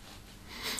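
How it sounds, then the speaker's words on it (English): A single close, breathy sniff draws in the aroma of Springbank 9-year-old Gaja Barolo whisky from a glass, rising in intensity toward the end and otherwise quiet. "sniff on the whiskey."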